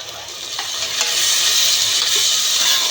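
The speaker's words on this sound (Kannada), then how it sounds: "ಮಸಾಲೆ ಎಲ್ಲ ಆಯಿಲ್ನಲ್ಲೇ ಫ್ರೈ ಆಗಬೇಕು" Ground masala paste of green chillies, coriander, mint, garlic, ginger, cinnamon and cloves fries in hot oil for a vegetable pulao, a loud steady sizzle with a few light clinks of the spoon, close with no talking.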